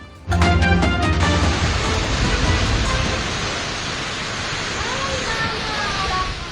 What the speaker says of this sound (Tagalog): Galit ng mga hampas na hangin. Kakambal ng tila hindi maubos na buhos ng ulan.